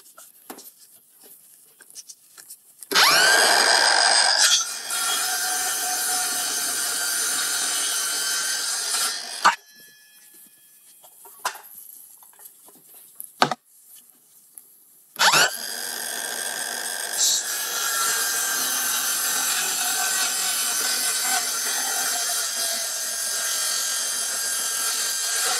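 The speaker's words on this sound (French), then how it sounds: "Allez, on attaque à la scie circulaire." A circular saw whines loudly through wood in two long cuts separated by quieter gaps with brief knocks and clatter.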